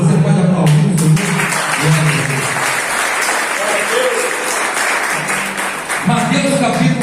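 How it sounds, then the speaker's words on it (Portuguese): A church congregation applauds at an Easter service, a dense burst of clapping filling the space with some voices mixed in, fading slightly in the middle before swelling again. "Você pode aplaudir o Senhor?"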